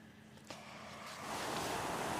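Muddy, swollen waterfall in Mae Wa National Park, Thoen district, Lampang, rushing hard after heavy rain; a steady broadband roar of water that grows louder and denser partway through, with no voices.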